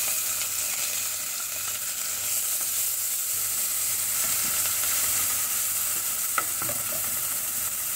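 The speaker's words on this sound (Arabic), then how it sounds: "في الطاجين تاعنا نديروا شويه زيت، كي يحملنا الزيت مليح نديروا البصل تاعنا" Onion frying in hot oil in a tagine pot gives a steady, close sizzling hiss with a faint crackle late on and no voices.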